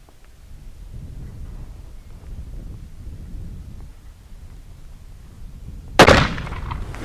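A single loud, sharp gunshot from a BFR .460 S&W Magnum revolver cracks out after several seconds of quiet outdoor wind noise and leaves a brief rumbling tail.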